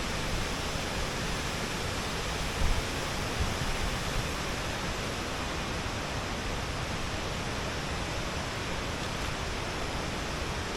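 Steady, dense rush of falling water at the Khlong Lan waterfall in Kamphaeng Phet, an even broadband roar filling the whole stretch with no voices, loud and continuous from start to finish.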